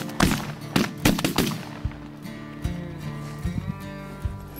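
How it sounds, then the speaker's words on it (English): Shotguns firing during a duck and goose hunt: a quick volley of several loud, close blasts in the first second and a half, followed by quieter scattered sounds and lingering echo. "Good shooting, boys."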